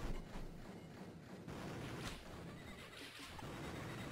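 A horse whinnies in the Amiga game Walker over a busy, noisy background, with faint hoof clip-clops, fairly quiet overall.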